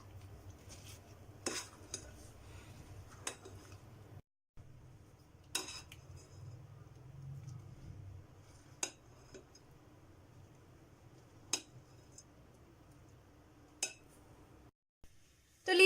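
Fruit chaat with pomegranate and almonds is tossed together in a bowl, with a spoon giving faint, widely spaced clinks against the dish over a low, steady background hum.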